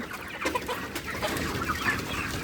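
Tiger-breed roosters and hens, about two months old, cluck steadily together in a farm pen, a continuous close chorus of overlapping fowl calls with no talking.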